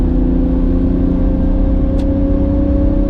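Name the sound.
Toyota LandCruiser accelerating hard through the gears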